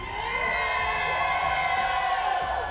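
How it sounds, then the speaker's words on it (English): A large arena crowd at an Apex Legends esports playoff event cheers and shouts in a steady, loud roar that carries without a break from start to finish. "Crowd is loving it."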